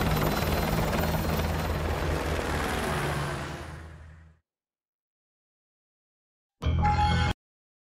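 Helicopter in Call of Duty Modern Warfare 2, a loud steady rotor thump that fades out into silence, then a brief burst of the same rotor noise returns near the end.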